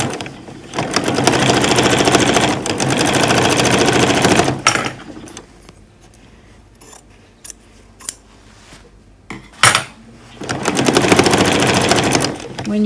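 Sewing machine stitching a row of quilt scraps in quick, steady bursts of rapid needle clatter, pausing in the middle for quiet handling sounds before running again, close and loud, with a voice talking.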